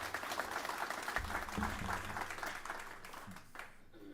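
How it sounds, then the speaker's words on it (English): A church congregation at a congregational meeting gives a sustained round of applause, a dense wash of many hands clapping that fades slightly toward the end, with a few voices faintly underneath. "a round of applause for Vern and all his work."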